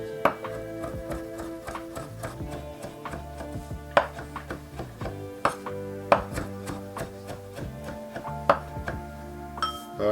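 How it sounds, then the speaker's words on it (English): A knife rough-chopping fresh cilantro on a cutting board, giving sharp, uneven chopping taps over about ten seconds, close by and fairly soft, with no speech. "Now for the cilantro, we're going rough chop."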